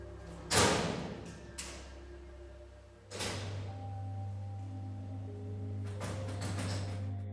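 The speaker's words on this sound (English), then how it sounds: "Lockers bang open and slam shut." Metal lockers bang open and slam shut, three sharp heavy impacts spaced a few seconds apart, each followed by a lingering rattle and hum in a quiet, echoing room.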